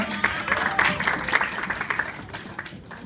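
Audience at a business motivation talk breaks into brief applause, a dense burst of clapping that fades over three seconds, with a voice speaking over it.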